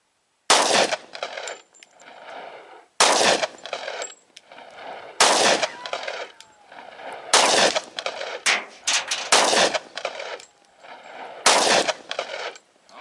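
Six sharp, loud pistol shots from a S&W M&P Shield .45 ring out one at a time, roughly two seconds apart, each followed by a short echoing tail, with no talking.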